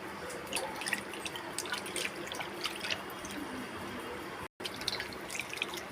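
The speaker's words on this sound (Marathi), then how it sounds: "खाली धुवून घ्यायला लागलं असं नळाखाली हे पूर्ण जास्त डीपमध्ये नाही धुवायचं" A kitchen tap runs steadily as a crab is rinsed beneath it, with a constant faint splash and scattered drips and taps, quiet and close, with a brief dropout near the end.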